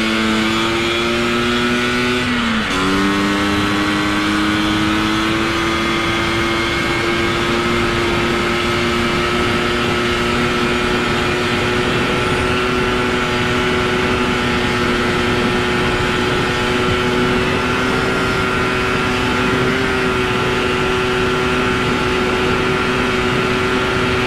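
A Vespa Sprint scooter fitted with a PWK carburetor accelerates steadily through the gears on a road, a loud, continuous, buzzing two-stroke whine that rises in pitch, drops briefly at a shift, then climbs again.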